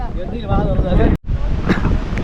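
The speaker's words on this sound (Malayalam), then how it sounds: "അപ്പോൾ ഇവിടെ നല്ല കാറ്റുണ്ട് കേട്ടോ." Loud wind gusts roar through forest trees and buffet the microphone, with a brief cut-out midway, on the Pullumedu forest route to Sabarimala.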